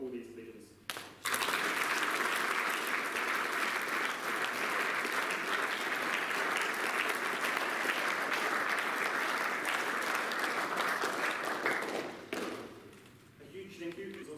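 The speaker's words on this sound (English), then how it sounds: "Can we please have a round of applause for all these legends?" Audience at a school sports prizegiving breaks into a long, steady round of applause honouring volunteers, sustained at full strength for about ten seconds before tapering off, with brief talk and murmur before and after.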